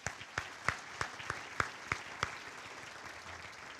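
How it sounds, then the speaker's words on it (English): Applause from a banquet audience honouring a men's cross country team at a university scholarship ring event, with loud individual claps standing out early before the clapping thins and fades. "Let's give them a big round of applause"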